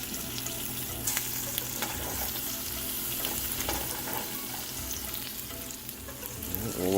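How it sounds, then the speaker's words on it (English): Chicken frying in olive oil in a pan for a balsamic fig dish, giving a steady, close crackling sizzle with scattered pops and stirring scrapes, continuous throughout with no talk. "we'll drop that in there. Get a nice sizzle going."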